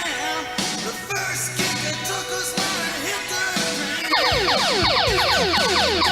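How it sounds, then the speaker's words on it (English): On a live trivia show, a daily double sound effect breaks into a busy musical passage, ending in a bright cascade of rapid descending electronic sweeps that carries loud to the end. "Oh, that is the sound of our first daily double."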